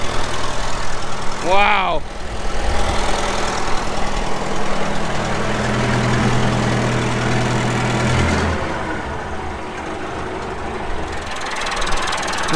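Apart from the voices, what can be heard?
backhoe engine idling, not throttling up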